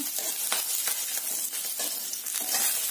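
Spinach (palak) for chutney fries in a small amount of oil in a pan, giving a steady close sizzle with intermittent scraping stirs and faint clinks, with no talking.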